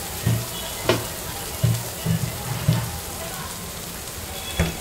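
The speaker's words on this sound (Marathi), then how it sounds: "मसाला चांगला खरडून परतायचा, कारण मसाला जो आहे तो कढईला चिपकलेला आहे." Masala frying in a kadhai while being scraped from the pan, a low sizzle broken by repeated short scraping strokes at an irregular rhythm, close by.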